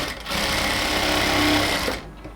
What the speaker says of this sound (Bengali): এবার পুরো কোমরটার মধ্যে আমরা সেলাই করব, বাট হচ্ছে ইলাস্টিকের পাশ দিয়ে, ইলাস্টিকের উপরে না